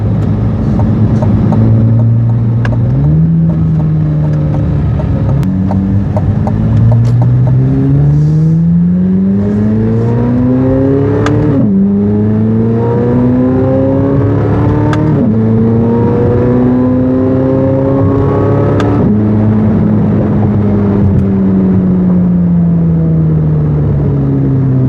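A 2023 Chevrolet Corvette Z06 3LZ on carbon fiber wheels revs up loudly through repeated rising climbs in pitch, each ending in a sharp drop at a gear change, running continuously and close by with no talk.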